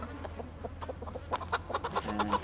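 Chickens cluck in a rapid, busy cluster in the farming game Project Zomboid, close and fairly loud over a low steady hum, with no talk.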